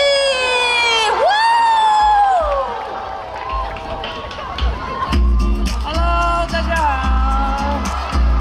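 A festival crowd at the 2023 Taoyuan Xinwu arts night cheers, whoops and screams to welcome an idol singer. An amplified voice carries over the top, and the crowd noise swells in loud bursts.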